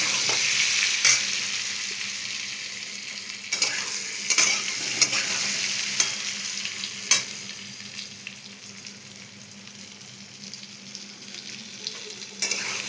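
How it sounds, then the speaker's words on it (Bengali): Potatoes frying in hot oil until reddish brown, a steady close sizzle with occasional stirring scrapes and clinks throughout, no voices. "আলুটা আমি লাল লাল করে ভেজে নিচ্ছি।"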